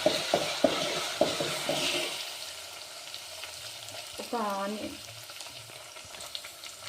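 Ginger-garlic paste frying in an upma pan, a steady close sizzle broken by sharp utensil taps and stirring scrapes early on, with a brief tonal clink partway through.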